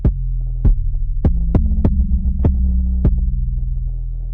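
Overlapping 808 bass notes in an Afrobeat mix: seven deep, booming hits with sharp attacks at an uneven rhythm, each tail sustaining and running into the next so the low end hums continuously, loud and close with no voices.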